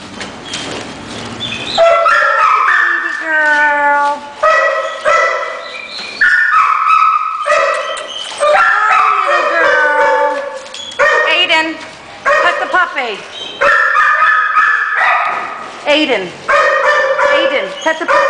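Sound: brindle female puppy whimpering and yipping

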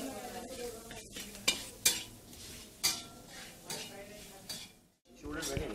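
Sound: stirring spices into veg franky filling in pan

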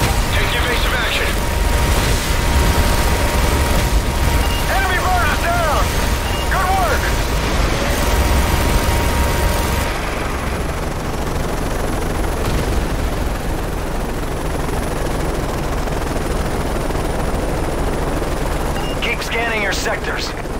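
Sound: heavy gunfire and helicopter in Call of Duty Modern Warfare video game

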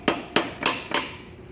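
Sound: small hammer knocking connecting rod cap loose on Z24 engine

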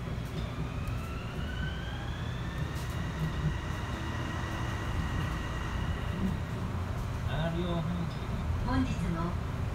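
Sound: Kobe Port Liner automated transit train running

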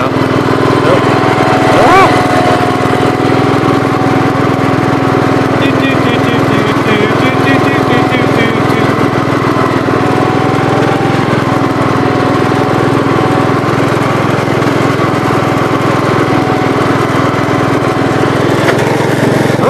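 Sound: 1981 Gravely 8122 tractor engine running

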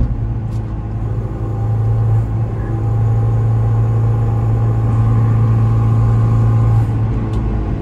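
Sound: Citroen C4 1.6 hatchback driving through a curve

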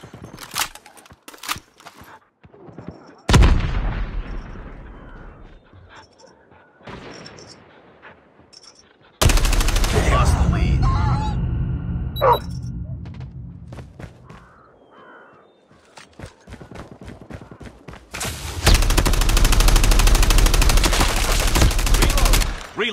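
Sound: gunfire in a first-person shooter video game

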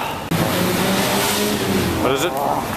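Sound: Ferrari engine revving

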